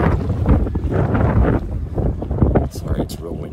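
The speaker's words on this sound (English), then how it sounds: "Sorry, it's real windy." Strong wind on public hunting land buffets the microphone in heavy, uneven gusts, with a person talking underneath the roar.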